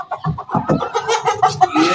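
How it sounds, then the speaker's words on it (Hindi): Hens and a rooster cluck steadily in a backyard poultry setup, a close, busy run of overlapping clucks and short calls with no talking over them. "एक मुर्गा है और वो मुर्गी अंदर खड़ी हुई है"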